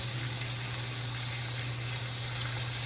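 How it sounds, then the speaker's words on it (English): Asparagus simmering with garlic in a pan, a steady, even bubbling hiss with no breaks, moderately loud and close. "And you let it simmer for a few minutes."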